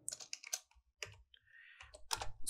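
Keys clatter on a computer keyboard while a folder-name command is typed into the Windows 11 command line, in quick bursts of clicks with short pauses, close and fairly quiet.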